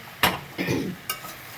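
Prawns, jackfruit and potato stirred in a small pan, three separate scraping strokes over a soft, low sizzle, close by.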